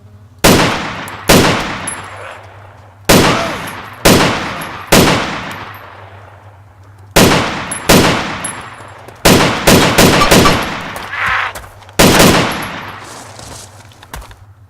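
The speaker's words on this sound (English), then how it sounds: "This weapon is really loud though. I think people can hear it very far away." Loud weapon gunfire in DayZ rings out as about a dozen sharp, booming shots, some single and some in quick pairs, each with a long ringing tail, close and alone with no talk.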